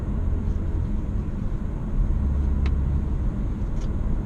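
A 2018 Audi A4 quattro with a manual gearbox drives along with a steady low engine and road rumble, moderately loud and unbroken, with a couple of faint high ticks over it.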